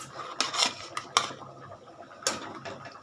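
Rohu fish pieces go into a pan of curry with a few sharp clinks and scrapes of metal utensil against the pan, close and clear, separated by quieter sizzling gaps.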